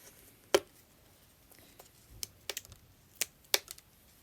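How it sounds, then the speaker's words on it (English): Sharp knife stop cuts into wood during hand carving, heard as a few crisp isolated clicks and snaps with quiet gaps between them, close and fairly soft. "So I'm doing a stop cut here."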